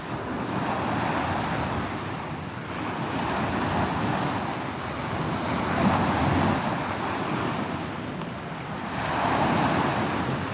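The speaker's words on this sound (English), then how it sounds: "The wind just started to kick and now it's dropped off again, luckily." Wind gusting down Lake Wakatipu near Queenstown, New Zealand, a steady broad rushing roar with microphone buffeting that swells and eases in waves, loud and close, no talking.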